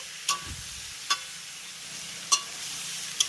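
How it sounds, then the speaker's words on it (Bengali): Pumpkin and tomato fry quietly in a pan under a soft, steady sizzle, punctuated by four sharp spatula taps against the pan at irregular intervals. "এই কুমড়োর সঙ্গে টমেটোটাকে আমি এক মিনিটের মতো এইভাবে একটু নেড়ে চেড়ে ভেজে নেব"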